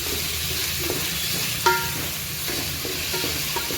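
Tomatoes fry in hot oil for a chicken tikka biryani, giving a steady broadband sizzle with light stirring scrapes and one brief clink partway through, close and continuous with no talking.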